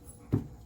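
A dog gives a single short whimper, a brief soft whine heard nearby in a quiet indoor room with no talking.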